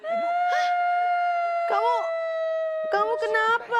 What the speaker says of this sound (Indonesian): Ambulan. Ada ambulan.